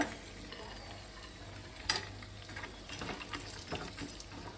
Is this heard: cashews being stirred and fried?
yes